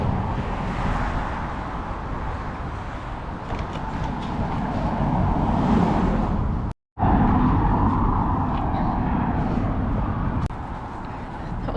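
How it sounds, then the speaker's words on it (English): Steady, loud roar of busy road traffic passing close by, continuous broadband rumble with vehicles swelling and fading, briefly cut out once partway through. "Busy road to cross."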